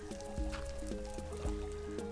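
Water pours and splashes through a collapsing roof in a block-building video game, a continuous liquid rush with drips and squishy splashes, punctuated by low thuds and a steady electronic tone underneath.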